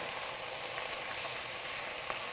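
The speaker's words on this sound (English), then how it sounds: "Just stir it in so it gets in touch with the oil and the garlic" Spinach leaves and garlic crackle in hot oil while being stirred, a steady close sizzle with faint scraping ticks, no talking.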